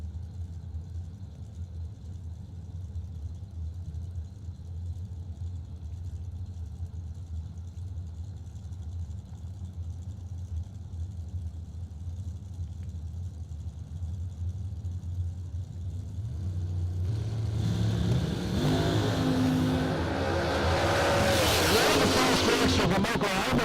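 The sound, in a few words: drag racing dragster engines revving and launching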